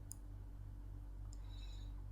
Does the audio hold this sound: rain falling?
no